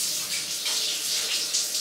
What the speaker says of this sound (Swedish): Alltså det var sjukt när det kom ut vatten.